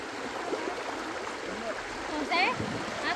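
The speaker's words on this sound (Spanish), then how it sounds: "Aquí está más bonito porque el agua va corriendo" Water flowing and trickling in a shallow stream, a steady soft rush close by, with people talking and a brief higher voice near the end.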